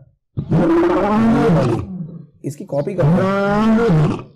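A voice imitates a lion's roar twice, deep drawn-out growling roars separated by a short spoken phrase, loud and close.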